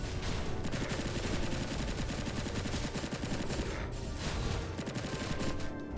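Rapid automatic gunfire from a weapon in the game Skul The Hero Slayer, a loud continuous stream of shots over a busy game soundtrack, with brief pauses around the fourth and sixth seconds.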